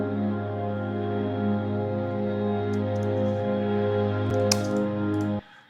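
A sustained synth spoke pad doubled with a Cycle Box pad, a steady organ-like drone holding evenly for several seconds before cutting off abruptly near the end.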